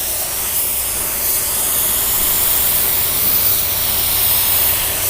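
Held a bit farther back, an LVLP automotive paint gun dusts a light blending coat onto a car panel, giving a continuous even hiss of spray throughout with no voices.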